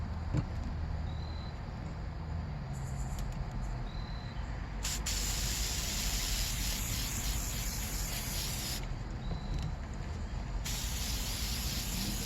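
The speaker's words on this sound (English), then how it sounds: "And then you just spray." A spray paint can hisses in long, steady blasts onto Jordan 11 sneakers, loud and close, with brief breaks between sprays.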